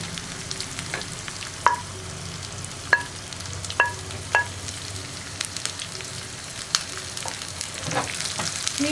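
Sliced onions and round-cut green chillies sizzle steadily in a hot pan, with several sharp scraping clinks of a spoon stirring them, close and alone without talk.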